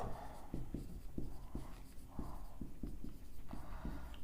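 Chalk or marker writing on a board during a maths lesson, a series of short scratchy strokes and taps in an irregular rhythm, close and fairly quiet, with no talking over it.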